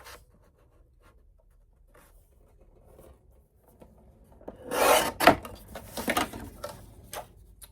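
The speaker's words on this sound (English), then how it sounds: "So we'll go ahead and cut this to 5." Material for a keepsake folio is cut by hand: quiet scratchy rubbing at first, then a louder burst of rasping, tearing strokes in the second half, close up and without talk.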